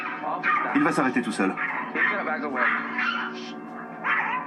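A dog yips, barks and whimpers in short agitated bursts close by, mixed with a voice speaking over it.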